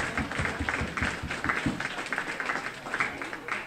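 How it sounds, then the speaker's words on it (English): Guests at a pro-life charity banquet applaud, a moderate, fairly steady spell of many hands clapping heard from a little distance. "So I'd like everyone to give a round of applause to Nick."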